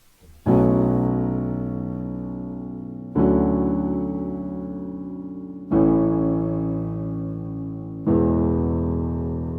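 A song chorus on piano, played alone as four sustained chords struck roughly every two and a half seconds, each ringing out and slowly fading before the next.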